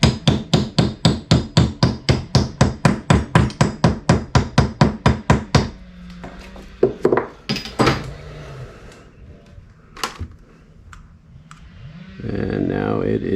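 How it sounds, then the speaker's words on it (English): Steady rapid hammer taps on a socket seating a bearing in an LB7 Duramax turbo during a rebuild, about twenty sharp close metallic strikes in even rhythm, then quieter handling clatter and someone talking. "I'm gonna put a little socket on there, give it a taparoo"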